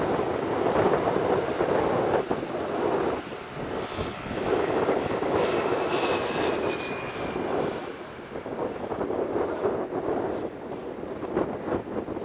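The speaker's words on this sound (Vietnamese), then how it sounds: "Ở góc này thì cũng nhìn thấy máy bay chạm vào đường băng." A fixed-wing airliner touches down on the runway at Cam Ranh, heard from a pond bank nearby as a steady loud engine roar and rumble that swells and holds throughout.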